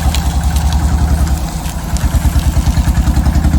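An open-air truck rides along a bumpy village road in Thailand. A loud, close engine throbs in a steady pulsing rhythm, with rattling vibration and no one talking.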